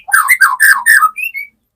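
A white-rumped shama (murai batu) sings a short run of bright, varied whistled phrases, loud and close. The song ends in two thin, higher notes before falling silent.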